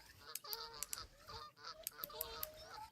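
Geese-like waterfowl in Fishing Planet honk repeatedly over a steady outdoor ambience, a string of mid-distance calls that keep coming in irregular bursts.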